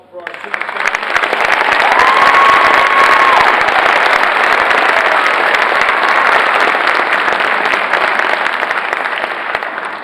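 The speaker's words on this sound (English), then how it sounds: "One final round of applause for our students." Sustained audience applause for students at an awards ceremony, a dense, steady wash of clapping that swells quickly and holds loud for about ten seconds, with a faint voice briefly audible within it.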